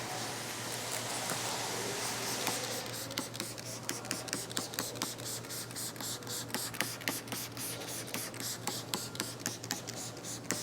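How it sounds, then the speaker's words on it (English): Dedicated pre-wash sprayed onto a car's exterior by a hand trigger sprayer: a steady hiss of spray gives way to a run of quick, regular pumping squirts, close and fairly loud, with no talking. "this is just for the exterior of the vehicle, so spray it on"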